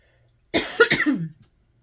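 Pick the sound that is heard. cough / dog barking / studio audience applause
cough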